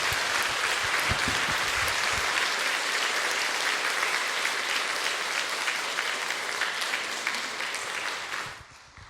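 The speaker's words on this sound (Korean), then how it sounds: "두 분 목사님께 우리 모두 박수로 인사드리겠습니다." A church congregation applauds two pastors in a sustained wash of clapping that stays steady for several seconds before fading out.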